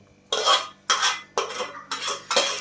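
A spoon stirs jaggery rice in a pot, five separate scraping sweeps in an even rhythm, each a close, gritty rasp followed by a short pause.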